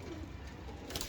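Pigeon cooing faintly against a steady low background, with a brief brighter call near the end; the bird is one of a keeper's old-breed pigeons.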